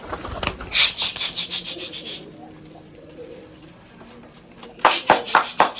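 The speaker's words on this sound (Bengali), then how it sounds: "কবিতর কয়েকটা উড়াই দি ভাই।" Pigeons taking off and flying on a pigeon farm, with close bursts of wing flapping at the start and again near the end, separated by a quieter stretch with faint cooing and low rustling.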